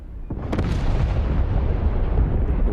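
Dense, echoing barrage of missile explosions rumbling together in a naval warfare video game battle pitting a modern aircraft carrier's strike against a 1944 fleet, loud and continuous with sharper blasts near the start.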